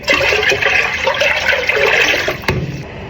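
A gallon of water poured into a container to start a turkey brine, a loud, close rushing and splashing pour that runs steadily and then stops abruptly with a knock.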